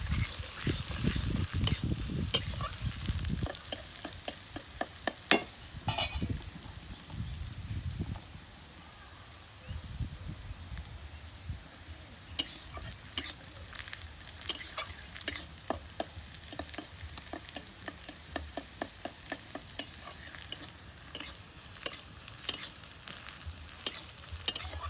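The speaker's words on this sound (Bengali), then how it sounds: "পেঁয়াজটা আমি লাল লাল করে ভেজে নেব।" Onion fries in a pan until reddish with a low, steady sizzle, interrupted by frequent sharp scraping clicks of a spatula stirring against the pan.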